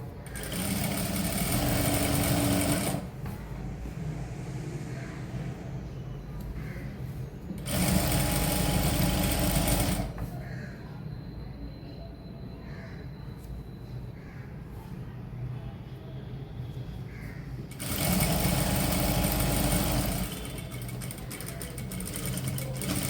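A sewing machine stitches a hem of fabric folded about half an inch. Loud bursts of close, rapid whirring alternate with quieter stretches of background noise and handling between runs.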